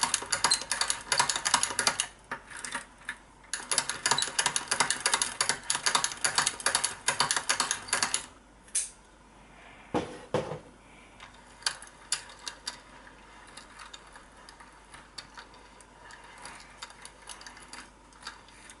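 A Prym knitting mill cranked by hand to make a French knitting cord, giving a steady run of fast, close plastic ratcheting clicks that stops, then returns as fainter, sparser clicking.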